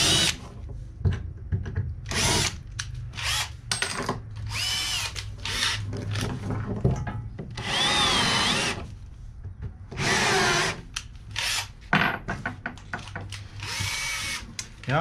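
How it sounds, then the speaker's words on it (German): A cordless drill widening holes for a countersink in the floor of a Fiat Ducato L5 H3 camper van conversion, repeated loud close whirring bursts of varying length separated by short pauses. "Ein bisschen größer bohren für den Senker."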